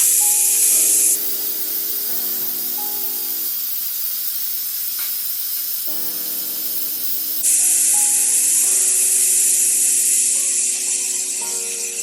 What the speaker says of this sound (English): Now that this is done, I'm going to go ahead and let this out, the steam out.